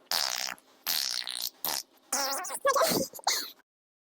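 A person imitates a fart noise with their mouth, producing several short buzzy, sputtering bursts separated by brief pauses, close and fairly quiet.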